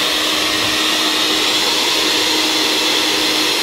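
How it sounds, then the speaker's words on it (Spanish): A blender purees pumpkin cream soup with salt added in a kitchen, a loud, steady high-speed whir running continuously and close without any break. "Tenemos ahí ya la sal y volvemos a licuar."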